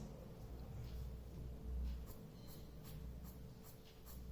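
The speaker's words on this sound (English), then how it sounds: "Now let's try with harder pencil," Harder charcoal pencil drawing on paper, a quiet continuous scratchy scraping with faint rhythmic strokes over low background hum, no voices.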